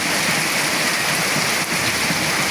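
Heavy typhoon rain pours in a steady, dense roar during a storm sweeping Mindanao, loud and unbroken, with a rushing hiss that may carry wind.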